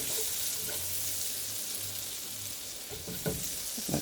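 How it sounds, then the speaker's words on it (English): Garlic browning in a pan sizzles and crackles steadily at low volume, with a few scraping stirs near the end. "so that's why I'm letting this garlic brown up"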